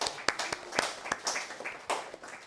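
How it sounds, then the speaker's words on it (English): An audience at a university speaker-series event applauds a campus club, with loose, uneven clapping from a modest crowd. Some individual claps stand out sharply over a softer bed of hands. "a big, huge, a round of applause for Data Science Society."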